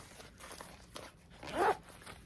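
A quick, quiet zip is pulled on the inside zipper pouch of a red Sak crossbody bag, one short burst near the end against a faint background.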